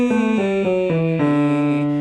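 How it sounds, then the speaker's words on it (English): A singer does a lip trill that opens into a sustained E vowel, the voiced buzz stepping through a run of pitches before settling into an open, held tone, close and clear. "For starters, lip trill releasing into E."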